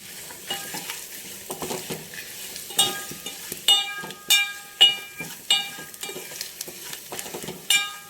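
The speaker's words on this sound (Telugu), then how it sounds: "వెల్లుల్లి, మిరియాలు, ఆ పొడి వేసుకుందాం. కొంచెం వేగనిద్దామండి." Garlic, black pepper and a spice powder fry in a pan for vaakkaya rasam, with a steady sizzle broken by repeated sharp metallic clinks and scrapes of a spoon stirring against the vessel.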